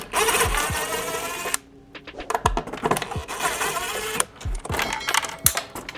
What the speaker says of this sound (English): I'm gonna take these screws out.